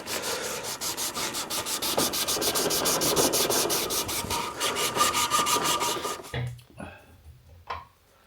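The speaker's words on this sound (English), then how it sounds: "that's an hour of hand sanding, and it's yet to go on the buffer, but that's to an 800 grit hand sanding." A carbon steel knife blade is hand sanded to 800 grit: quick rhythmic back-and-forth rasping strokes, close and steady for about six seconds, then a few quieter scrapes.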